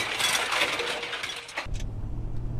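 A car on the move gives a low, steady engine and road rumble close inside the cabin, with a brief clink partway through and no talking.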